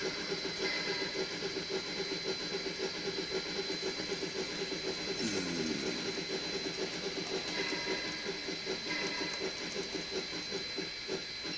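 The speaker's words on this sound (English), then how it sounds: "Let's see if we can have a little look at the Lone Star crane running." Lone Star N gauge model crane running close up, a continuous buzzing electric motor hum with a steady whir and faint mechanical rattles throughout.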